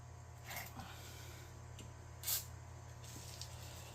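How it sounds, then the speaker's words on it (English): A short hiss of PB penetrating oil aerosol sprayed on front brake parts of a 2017 Kia Sportage bursts briefly, once, against a steady low hum, with faint clicks around it. "So I like to spray it with some PB."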